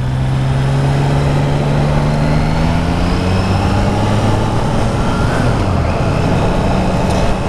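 A Triumph Trident 660 three-cylinder motorcycle, a 2021 A2 model, pulls from low revs in fifth gear around 30 km/h, a steady rising engine drone under loud wind rush for the whole run.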